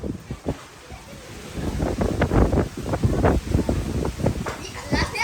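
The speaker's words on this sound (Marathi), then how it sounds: "अचानक आला वादळ वारा धूल बघा धूल" Gusty wind from a sudden dust storm buffets the microphone in rough bursts, with people talking over the roar.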